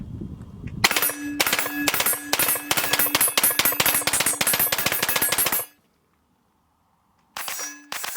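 Rifle fire on an outdoor range: a rapid string of sharp, loud shots with ringing metallic clangs, close by, then a sudden silence before another short burst.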